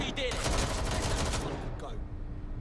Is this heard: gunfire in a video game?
yes